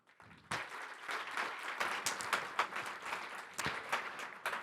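An audience at a collective climate-transition gathering breaks into applause after a brief quiet start, the clapping fairly dense and moderately loud with some sharper individual claps standing out, continuing steadily to the end.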